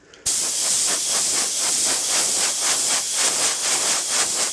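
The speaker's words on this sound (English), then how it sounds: "I spray till that's wet" A spray gun applies gloss black paint in a continuous loud hiss, steady and close, with a faint pulsing rhythm running through it.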